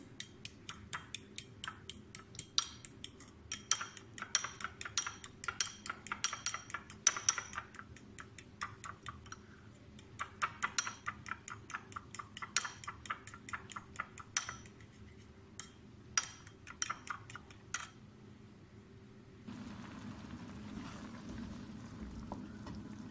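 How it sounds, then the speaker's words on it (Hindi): Eggs beaten in a bowl with quick, rhythmic clicking strokes, near and fairly faint, in bursts with brief pauses and a low background hum. "अब हम अच्छी तरह अंडों को फेंट लेंगे"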